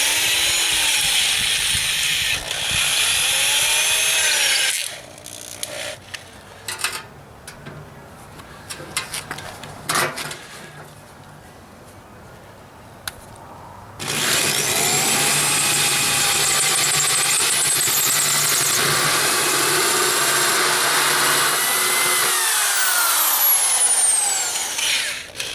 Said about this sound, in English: now I'm going to go ahead and drill my final size hole.